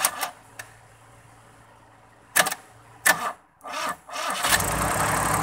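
A 1983 Daihatsu Charade with rodent-chewed wiring is cranked several times in short bursts after a few faint clicks, then catches and settles into a loud, steady running roar.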